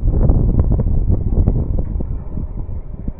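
Outdoor wind buffets the microphone in a loud, continuous low rumble with gusty swells and no voices, steady for about three seconds.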